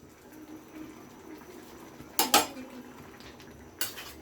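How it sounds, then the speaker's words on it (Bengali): A spoon or ladle scrapes and clinks against a cooking pan of bottle gourd greens with water, two short bursts of metallic clatter over a low simmering background. "এবার জলটা দেওয়ার পরে আমি একটু নাড়িয়ে নিচ্ছি এইভাবে, খুব ভালো করে নাড়িয়ে নিলাম।"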